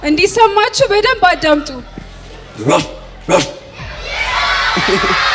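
Recorded dog barking played aloud during a children's animal sound guessing game: a person speaks first, then two sharp barks ring out, followed by a noisy, hissing tail.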